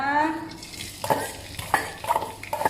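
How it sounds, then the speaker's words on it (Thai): Spring roll filling with cabbage, carrot and onion is stir-fried in a pan, giving a close sizzle broken by several sharp spatula scrapes and clanks in an irregular rhythm. "ผัดให้สุกเลยค่ะ"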